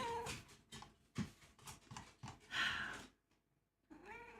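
A house cat meows several times in short, fairly loud calls close by, with a rising and falling drawn-out cry near the end after a brief pause.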